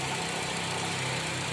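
Honda City i-DSI engine running at idle, a steady mid-pitched mechanical hum with faint regular pulsing, heard close and continuous with no voices.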